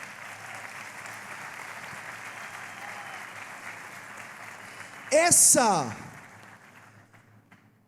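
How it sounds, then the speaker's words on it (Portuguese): A crowd at a 2021 FENASP symposium applauds steadily in a standing ovation for a politician, a continuous wash of clapping under a speaking voice, with a louder burst of cheering and whistles near the end before it fades. "Tu merece aplaudir de pé."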